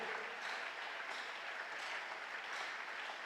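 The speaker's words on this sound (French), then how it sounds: "Acclame très, très fort pour la gloire du Seigneur." Church conference congregation applauding and cheering for the glory of the Lord, a steady, fairly faint wash of clapping with slight swells, heard alone without speech.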